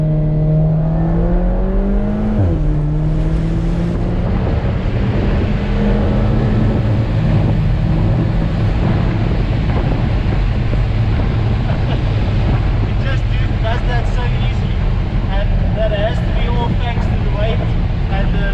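An Alfa Romeo 4C Spider turbo engine accelerates hard in second gear, its note climbing then dropping at the shift, heard close under heavy wind buffeting with a voice speaking later.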